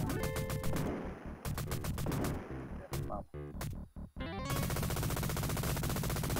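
Arcade shooter Cabal fires rapid bursts of gunfire, loud machine-gun rattles and explosive blasts stacked over game music, with brief pauses between volleys.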